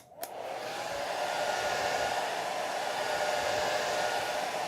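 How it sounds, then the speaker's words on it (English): A hair dryer switches on with a click and then blows in a steady, loud, continuous whoosh with no break, drying a watercolor painting. "So I'm gonna turn the blow dryer on."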